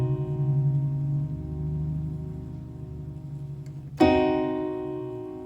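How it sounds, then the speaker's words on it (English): A diminished chord built with a flattened third and flattened fifth rings out once on a sustained keyboard or harmonic instrument after a held lower tone, clear and alone, decaying slowly. "Diminished is when you flat the 3 and you flat the 5."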